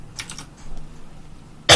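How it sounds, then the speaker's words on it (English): A single sharp cough bursts out at the very end, loud and close, after quiet rustling and faint clicking. "Sorry for the coughing, by the way."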